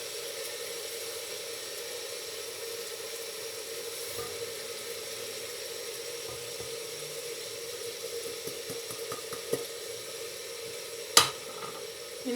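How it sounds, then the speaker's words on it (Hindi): Mixed spices frying in a pan for lobia masala, a steady close sizzle with a few stirring scrapes and one sharp clatter near the end, with no talking. "इनको अच्छी तरह भून लेंगे।"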